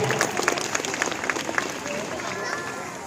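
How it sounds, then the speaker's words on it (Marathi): An audience applauds a speaker being welcomed at a lecture event, brisk clapping from a crowd that thins out after the first couple of seconds. "जोरदार टाळ्या झाल्या पाहिजे सरांसाठी एकदा."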